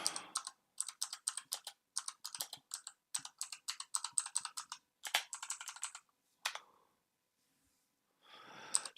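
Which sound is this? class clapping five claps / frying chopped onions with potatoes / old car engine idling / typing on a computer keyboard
typing on a computer keyboard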